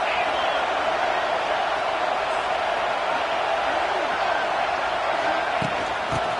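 Steady roar of a college football stadium crowd at a Texas A&M game, dense and continuous throughout, with an announcer's voice talking over it.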